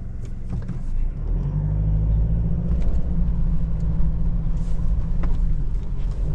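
A 2024 Toyota HiLux 48V hybrid climbs a steep muddy off-road hill, its engine a loud, steady low rumble that rises into a sustained straining drone, with faint clunks and road noise over it and no talk.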